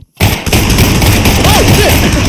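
Gunfire in the VR shooter Pavlov, loud rapid cracks and pops in a dense burst running under the game's background noise.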